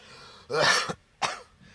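Two rough, throaty coughs close up, the first longer and harsher, the second short, with quiet breathing between.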